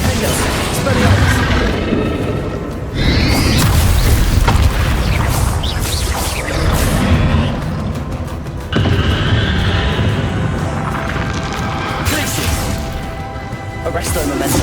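Bombarda and Confringo spell blasts in Hogwarts Legacy, heavy booming explosions bursting one after another with crackling debris, loud and close, while a voice casts the spells over the blasts.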